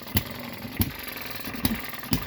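A small Eachine ET1 model hit-and-miss engine running, four sharp regular firing pops about two-thirds of a second apart over a steady low mechanical whir, close and clear.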